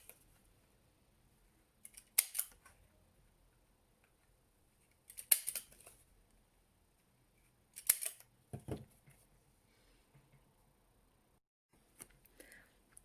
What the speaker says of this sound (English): Take a hole punch and hole punch each of the corners.